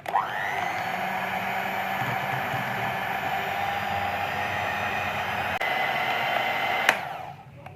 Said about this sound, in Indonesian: Dan ini kita kocok lagi sampai tercampur rata.